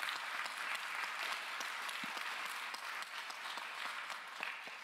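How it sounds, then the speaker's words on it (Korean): A church congregation at a Sunday young adults' worship service applauds to welcome a first-time visitor, soft, fairly distant clapping from many hands in a steady wash. "박수로 환영하겠습니다."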